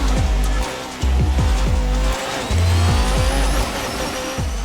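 A Porsche race car in a Le Mans driving game bounces over chicane curbs, engine revving hard in rapid gear-change cycles with repeated rising pitch sweeps, loud and continuous with no talking.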